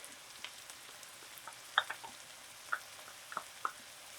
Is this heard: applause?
no